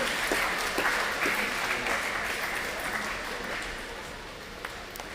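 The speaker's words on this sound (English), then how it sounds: "Let's give our Pacific captains a big clap." A school closing celebration erupts in steady audience clapping for Pacific student captains, a broad, even wash of applause that swells early and slowly tapers off.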